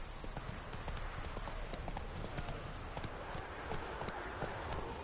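Roach, a horse in The Witcher 3 video game, gallops with a steady rapid clip-clop of hooves, close and continuous throughout, with game ambience underneath.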